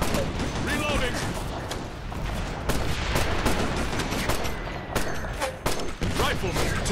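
Continuous rattling gunfire from the Operation Flashpoint Red River video game, dense fusillade bursts layered with machine-gun fire and sharp shots throughout, while radio-style voices call out in the background.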